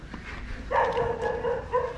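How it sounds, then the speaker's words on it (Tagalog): Dogs bark and yelp nearby in short bursts, a cluster of barks with brief pauses between them. "Ang ingay naman ng mga aso ngayon ah."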